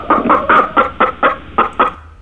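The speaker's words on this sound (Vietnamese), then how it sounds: "gà mái này" A hen clucks in a quick run of about eight short, evenly spaced clucks, close and clear, used as a sound effect in a Scratch animal-sounds project; no talking.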